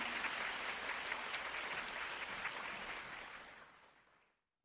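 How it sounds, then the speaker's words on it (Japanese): Applause from a lecture audience rolls as a dense, steady patter of many hands clapping, then thins and fades out, with no voices. "もう一度大きな拍手をお願いいたします。"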